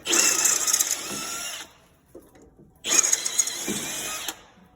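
A drill with a 1/4 inch bit enlarges threaded bolt holes on a Honda Pioneer 500 while a radiator relocation kit is fitted: two close, loud bursts of whining drilling, each about a second and a half, split by a short pause.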